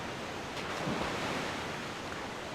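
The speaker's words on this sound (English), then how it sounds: "just going down a waterfall, no big deal." Rushing waterfall water in the video game Zelda: Twilight Princess HD, a dense, steady roar of cascading water filling the whole span with no talk.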